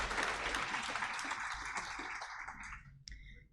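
A gala audience breaks into sustained applause, dense and loud at first, then thinning and fading out near the end.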